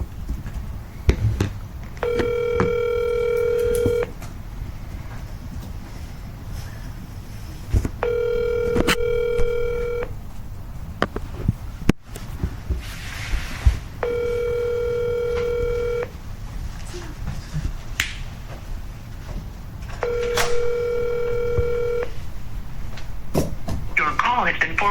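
A telephone call placed during a committee meeting rings out: four steady ringback tones, each about two seconds long and spaced roughly six seconds apart, sound clearly over a low, rumbling room background.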